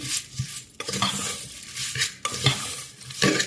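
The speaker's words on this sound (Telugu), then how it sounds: "అన్నీ గెరిటితో ఇలా కలిపేసుకుని" Spatula scraping and clinking against a pan while mixing ingredients for a potato curry, in repeated uneven strokes, close and clear with no talk.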